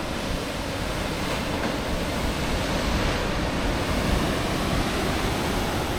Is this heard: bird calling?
no